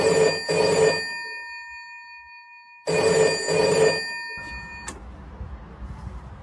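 An old street payphone rings with an incoming call: two long, loud electric bell bursts separated by a pause, then a click as the ringing stops and faint background noise continues.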